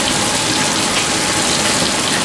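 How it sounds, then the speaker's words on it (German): Water from boiled potatoes pours into a kitchen sink as a steady, loud rushing gush that lasts the whole moment without a break. "Die Kartoffeln habe ich ausgestellt, die gieße ich jetzt noch schnell ab."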